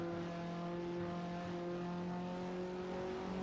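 Steady engine drone from a VW Golf MK4 R32 in the Assetto Corsa racing game, holding a sustained tone with a slight rise in pitch, heard alone without talk.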